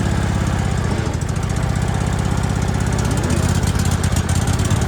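Lawn mower engine with a dirty carburetor running steadily and loud up close, a continuous low rumbling drone with a slight surge partway through.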